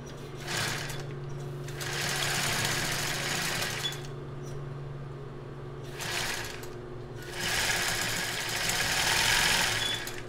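A sewing machine stitches a short zigzag finishing stitch on a children's bra, running in several bursts of steady whirring with brief pauses between them, close and fairly loud, with no talking.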